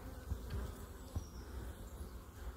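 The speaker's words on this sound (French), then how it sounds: "Là on voit une abeille qui revient sans rien." Honeybees flying around beehives in an apiary, a faint, steady buzzing hum with a few low thumps, heard alone without talk.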